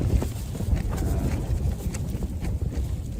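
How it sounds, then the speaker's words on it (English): Strong wind gusting across an exposed hilltop in the Lake District in winter, a steady loud roar with buffeting bursts against the microphone and no voices. "is crazy windy at the moment."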